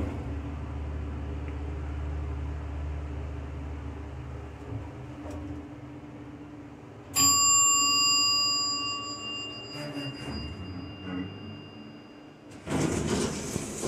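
A Dover traditional hydraulic elevator sounds a single clear bell chime that rings out and slowly decays over steady machinery hum, followed later by a short clunk and a burst of noise as the door moves.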